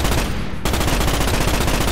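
Rapid automatic gunfire from the Morita Mark IV rifle in the Starship Troopers game, a loud, dense continuous burst that pauses briefly before resuming, close and alone with no talk.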